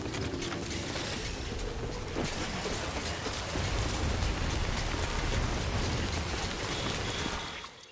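Timefall rain in a video game pours down steadily, a dense, even hiss of drops spattering on surfaces with faint mechanical clicking mixed in, fading out at the very end.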